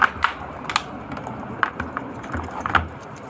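A bunch of keys jangles in a few quick metallic clinks at close range, scattered over a quiet background near a vehicle.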